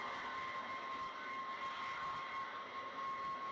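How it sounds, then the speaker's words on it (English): Starship vehicle venting gas during final depressurization, a steady loud hiss with a sustained tone running throughout, heard alone with no talk. "the sound goes higher and higher and higher pitched as the pressure goes lower"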